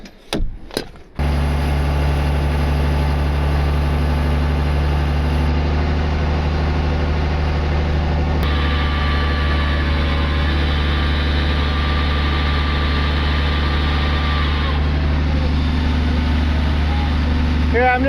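A truck engine cranks after a few brief knocks and settles into a steady, loud low idle with a constant deep hum, and the tone shifts slightly partway through.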